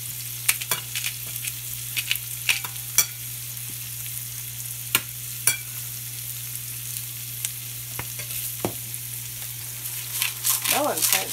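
Pork rendering in a pan, a steady close sizzle of fat with sharp crackles and pops, scrapes of stirring throughout and a constant low hum underneath.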